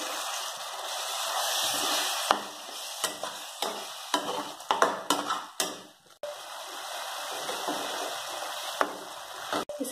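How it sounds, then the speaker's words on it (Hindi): An onion, garlic and green chili masala paste sizzles steadily in a pan for jackfruit curry, with repeated scraping and stirring strokes of a spoon throughout. "इसे चलाते हुए हम थोड़ी देर तक भून लेंगे।"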